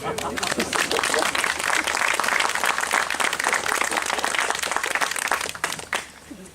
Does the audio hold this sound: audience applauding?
yes